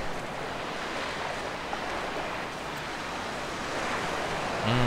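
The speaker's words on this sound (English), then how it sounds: "The ocean." Steady ocean surf washes on a remote island shore in the game Dear Esther, a broad continuous roar of waves with wind, no voices, and a slight swell in loudness near the end.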